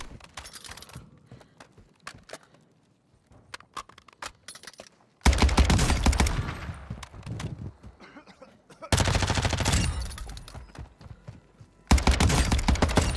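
Cronen Squall rifle in Warzone 2 firing in sharp single shots and loud bursts, spaced volleys separated by quieter stretches with footsteps and game sounds.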